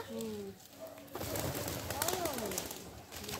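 Pigeons coo at a fair in short, moderately close calls over general outdoor background noise, with people talking faintly nearby.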